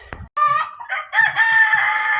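Rooster crowing loudly and close by in a farm chicken pen, a long rising-and-falling call repeated with short breaks, with low clucking from hens beneath it.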